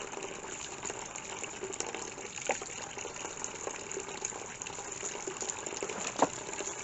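Apple juice gushes out in a steady, continuous stream during home hard cider making, with a fairly close, even rushing sound and a couple of brief knocks or splashes partway through.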